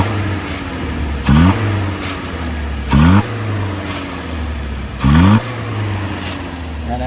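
A 1968 Volvo P1800S engine idles steadily at close range, with three brief bursts of revving spaced a couple of seconds apart.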